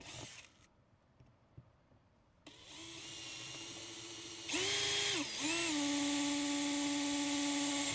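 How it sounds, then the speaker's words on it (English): A cordless power drill bores pilot holes for a Moryde Safe-T-Rail on an Impression 36BR3 RV: after a quiet start with small handling clicks, the motor whirs steadily, then ramps up louder, dips briefly and keeps grinding at high speed. "Pre-drill both these holes now."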